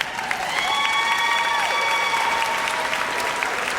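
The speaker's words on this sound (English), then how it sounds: "Can we give him a round of applause?" Families applaud a kindergarten teacher at a kindergarten promotion ceremony, brisk steady clapping with a few whoops and a sustained tone sounding underneath.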